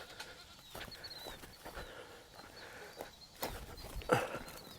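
Baby goats on a farm bleat faintly against quiet outdoor rustling, with one clearer, higher bleat near the end.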